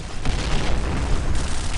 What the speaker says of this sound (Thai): แล้วระเบิดมันระเบิดพอดีครับ